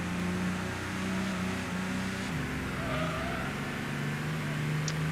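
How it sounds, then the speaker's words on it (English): A race car fitted with a new exhaust in the PS1 game Gran Turismo holds a steady engine drone that shifts pitch midway, with a faint tire squeal near the end. "I've got a new exhaust on this thing since I last raced it. So it sounds a little bit different."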